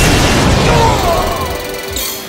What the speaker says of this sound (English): Shooting Star Dragon attacks! Falling Star Slam!